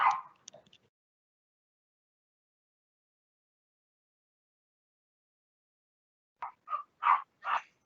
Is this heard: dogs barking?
yes